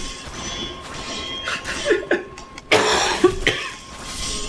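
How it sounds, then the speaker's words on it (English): A person coughs several times in quick, harsh bursts, close to the microphone, with loud rough hacks rising over a quiet background. "I'm ruining Live stream by coughing."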